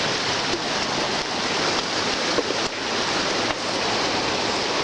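Floodwater of the New River rushes past in a dense, unbroken roar, close and steady with slight surges and some wind buffeting the microphone.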